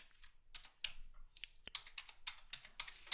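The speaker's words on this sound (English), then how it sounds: "So in here we're going to type" Rapid irregular keystrokes on a computer keyboard, typing text into rotary job setup software, close and crisp with brief pauses between bursts of clicks.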